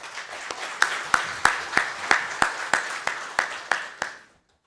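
Audience applause at a 2015 policy seminar on industrializing plasma technology, heard as a steady run of sharp, evenly spaced claps lasting about four seconds before stopping abruptly.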